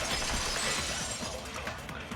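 Glass-like shattering from a breaking vase in the video game Danganronpa 2, a dense, bright crash that rings on and slowly thins out over about two seconds, with no talk.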